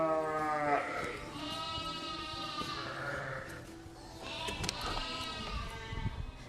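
Sheep on a farm bleat in drawn-out, wavering calls, several animals overlapping at close to middle distance, with barn noise underneath.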